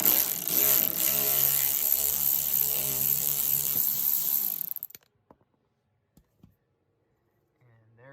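A ratchet loosens an 8mm bolt at the base of a fender liner on a 2013-2016 Dodge Dart, with rapid mechanical clicking for several seconds, then stopping abruptly, followed by a few faint isolated taps and near silence.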